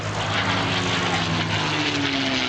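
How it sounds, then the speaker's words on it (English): Spitfire warbird passing at Shoreham Airshow 2011, a loud, steady piston-engine roar with a droning tone that slowly falls in pitch, filling the clip as the plane goes by. "For years I was convinced that that whooping noise came from the radiator."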